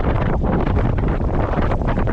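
Strong, gusty wind buffets the microphone on a rocky shoreline during a kayak fishing outing, a loud continuous rumbling roar with no voices.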